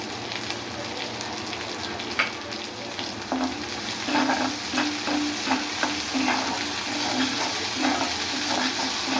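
Prawns sauté in a pan with salt for a prawn fry, giving off a steady, close sizzle. Light scrapes of a stirring spoon come through now and then, and nobody speaks.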